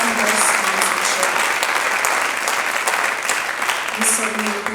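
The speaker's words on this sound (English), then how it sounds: "Let's give a round of applause for all of those sponsors" A benefit gala audience claps for event sponsors, steady and fairly loud applause with brief background voices and no pause in the clapping.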